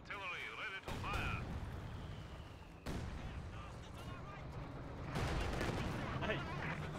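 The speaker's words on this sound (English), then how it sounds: "Red Army artillery ready to fire." Red Army artillery fires repeatedly in Company of Heroes 2 on the Steppes map, heavy booming blasts recurring amid a busy battlefield mix of gunfire and game voice lines.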